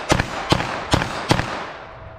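.380 ACP pistol firing NovX ammunition, four sharp, loud shots spaced roughly every 0.4 seconds, each with a short echoing tail, outdoors at close range.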